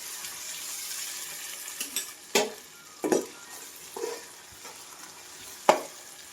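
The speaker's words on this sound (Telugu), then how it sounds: "ఇది దోరగా వేగనివ్వాలి." Pieces sizzle quietly in a pan while being fried golden, with sharp scraping stirs and clinks of a utensil against the pan breaking through a soft steady hiss; no speech.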